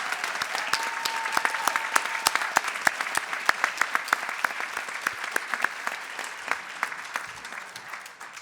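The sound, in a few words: audience applause for distinguished guests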